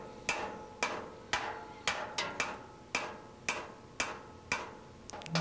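Sharp metallic hammer strikes on steel of a wrecked trailer ring out about twice a second, each clang decaying briefly before the next, steady and moderately close.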